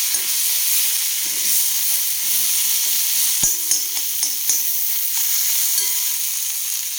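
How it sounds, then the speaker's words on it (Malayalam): Ground fennel powder is stirred into frying masala for egg curry: a steady high sizzle and hiss fill the pan, punctuated by a few scraping, clinking stirs of the spoon against the vessel. "അതോടിട്ട് ഇളക്കി യോജിപ്പിക്കാം."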